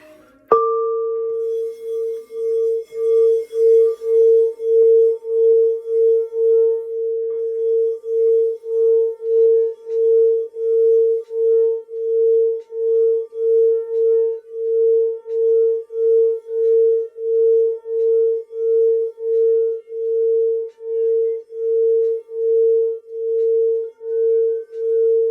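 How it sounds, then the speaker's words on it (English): A sound bowl struck once and then played with a long sustained ringing tone that pulses in a slow, steady wobble for over twenty seconds, clear and alone. "I got my sound bowl on deck so we can make that third eye pop."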